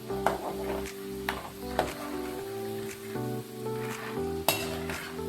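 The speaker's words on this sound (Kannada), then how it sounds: "ಶೇಂಗಾ ಫ್ರೈ ಆಗ್ಯಾವ್ರೆ, ತಕ್ಕೋತೀವಿ" Peanuts fry in hot oil for Diwali chivda, a steady close sizzle with occasional clinks and scrapes of a utensil against the pan and shifting tonal hum underneath.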